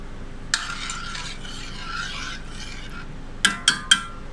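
Dry dal is poured into a pot of water, giving a rattling, scraping pour that lasts a few seconds, followed by three sharp clinks of a utensil against the pot.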